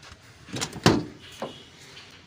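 A jeep door at a jeep dealership in Sargodha is opened and shut, giving a couple of close, sharp thumps and clunks with a softer latch click after them and no talking.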